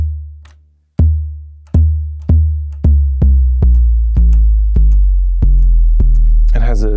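An Elektron Analog Rytm drum machine bass tom hits repeatedly, deep booming thuds with short attacks, spaced apart at first and then coming faster, each ringing out.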